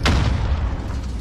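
A cruise missile strike in a multiplayer video game lands as a single heavy boom with a sharp onset, then a rumbling tail that fades over about a second.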